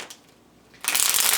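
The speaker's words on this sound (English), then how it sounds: "One more shuffle" A quick riffle of tarot cards being shuffled, a short bright burst of close papery flutter after a near-silent moment.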